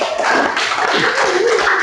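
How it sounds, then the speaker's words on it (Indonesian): A classroom audience at an Indonesian teacher-training presentation claps for a student group, a close, loud burst of rapid, overlapping hand claps filling the moment. "tepuk tangan buat kelompok Ar-Rahman"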